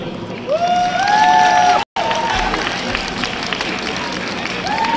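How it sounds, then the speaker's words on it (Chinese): Crowd applause and cheering at the Sunflower Movement tenth-anniversary rally in Taiwan, a steady dense roar from a large audience that runs almost throughout, with a brief cut near the middle and a voice rising over it. "给自己一个掌声。"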